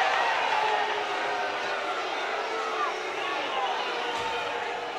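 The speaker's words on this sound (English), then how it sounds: "Crowd don't like it" Ice hockey arena crowd in Södertälje SK vs Sheffield Steelers, a broad sustained roar of disapproval after a penalty call, steady and dense throughout with a commentator talking over it.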